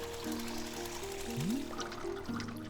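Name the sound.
pouring water into a tea machine in the video game Wanderstop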